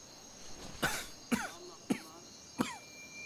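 A smoker gives four heavy, chesty coughs, spaced roughly evenly over a few seconds, close by against a quiet background.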